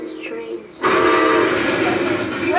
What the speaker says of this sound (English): Father's playing with his trains.